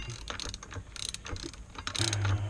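A ratchet clicks in quick bursts as it tightens the brake bolts on a motorcycle during a brake pad change, close and fairly quiet, with short pauses between strokes.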